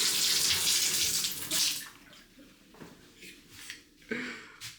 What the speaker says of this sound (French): J'ai pris une douche directe.